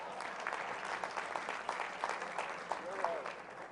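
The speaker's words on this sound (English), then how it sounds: "Come on, you all clap." Church audience at a sermon on leadership, law and morality breaks into clapping, a fairly faint, brief patter of hands in a large hall with murmured voices beneath.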